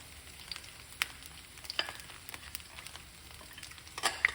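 Banana fritter batter frying in hot oil in a pot, a soft continuous sizzle with scattered brighter crackles and pops, close and moderately quiet, no talk.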